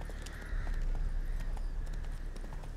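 Roach the horse trots in The Witcher 3 game, giving a steady clip-clop of hooves over a low rumbling game ambience, continuous and fairly close.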